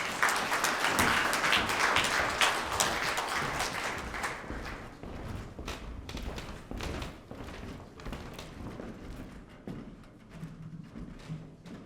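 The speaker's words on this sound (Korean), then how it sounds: "여러분 박수로 환영해 주시고 감사하겠습니다." An audience at a commemoration ceremony claps loudly for a male vocal quartet, a dense wash of applause that gradually thins and fades, with scattered individual claps near the end.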